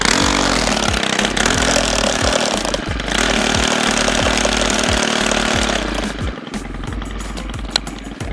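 Gas string trimmer motor running loud and close, a buzzy two-stroke drone with rhythmic pulsing that keeps going throughout and eases slightly toward the end.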